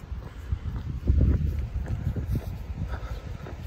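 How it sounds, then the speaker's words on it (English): Wind blows steadily across a hiking trail on the Florida Trail near the Aucilla sinks, a low, rushing buffeting that rumbles against the microphone throughout. "See, this wind makes it super chilly."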